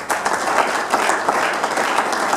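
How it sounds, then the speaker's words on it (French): Audience applause fills a youth conference hall, a steady dense wash of many hands clapping throughout without pause. "Est-ce que pour ce programme, on peut un peu applaudir"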